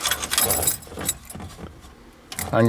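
Keys jangle in the ignition of a Ford Crown Victoria, a close metallic rattle in short bursts, with someone speaking briefly at the end.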